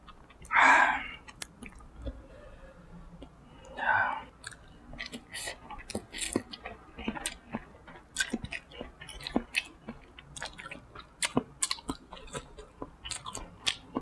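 Yakisoba noodles being eaten up close: two louder slurps near the start, then a steady run of soft, wet chewing and smacking that keeps going with no talk.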